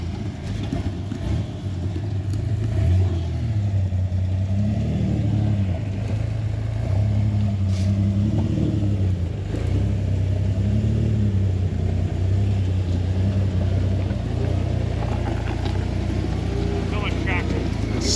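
A rock crawler off-road vehicle drives along a rocky ridge trail, its engine giving a steady low rumble with rising and falling revs throughout, while people talk over it.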